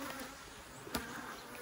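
Steady honey bee buzzing hums continuously at a low level while a hive is smoked, with a single brief soft thump partway through.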